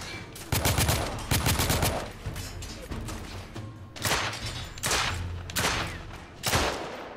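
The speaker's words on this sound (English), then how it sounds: "Provide me with a sniper rifle. This ain't a sniper rifle at all. Gets the job done, I think." Rifle gunshots ring out in the video game The Order: 1886, a series of loud sharp cracks spaced irregularly over several seconds with reverberant tails and some mechanical clanks between shots.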